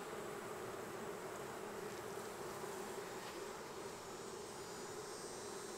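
Honey bees in an open hive that needs feeding, a steady faint drone of many wings buzzing continuously with no talking.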